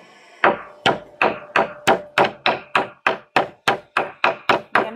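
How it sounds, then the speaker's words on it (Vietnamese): A knife chops lean pork for grilling on a cutting board, giving about thirteen sharp, evenly spaced thwacks that sound loud and close, with no talking. "Này miếng thịt mình không bự không thì mình sắt hai dao."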